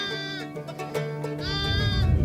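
Sheep and lambs bleat repeatedly at close range on a Sardinian shepherd's farm, wavering cries overlapping one another above a low rumble of animal movement and handling noise, with no talk.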